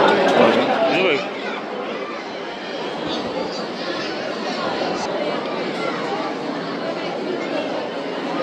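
A crowd packs the darshan queue at the Shri Datta temple in Ganagapur, a steady murmur of many voices with one nearer voice talking over the babble.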